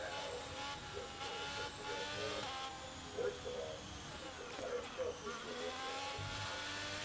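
Race car on cold tyres in a racing video game, its engine whining and revving in quick rises and falls at a faint level, with someone talking over it.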